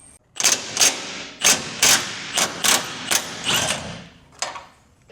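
A ratchet removes 21mm bolts from the cross member during a trailer hitch install on a 2026 Chevrolet Colorado, rapid clicking bursts of about eight or nine close metallic pulls in an irregular rhythm, with no voices.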